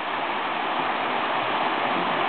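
A waterfall on a trail near a small lagoon pours in a steady, dense rushing roar, loud and unbroken, with no voices.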